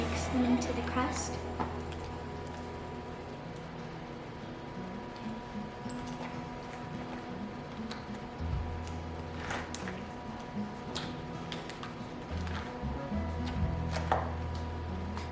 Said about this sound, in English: I'm just going to spread them around and kind of mix them into the crust.